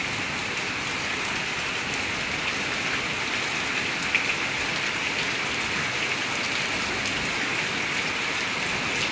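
Steady rain pouring in Kanjirappally, Anakkal, Kerala, on a March afternoon, a dense continuous hiss of drops striking surfaces with no voices, even and unbroken throughout.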